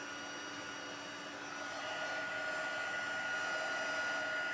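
A heat embossing tool blows hot air in a steady, close whooshing roar much like a small hair dryer, holding constant and growing slightly louder over a few seconds with no talking.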